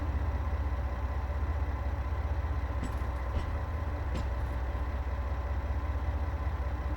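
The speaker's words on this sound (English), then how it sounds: "I can just sit and listen to this diesel engine." A twin-engine diesel train in Train Sim World 2 idles with a steady, deep rumbling drone, continuous and close, with a couple of faint clicks partway through.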